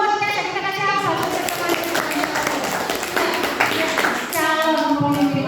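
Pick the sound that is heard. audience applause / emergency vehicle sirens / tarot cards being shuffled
audience applause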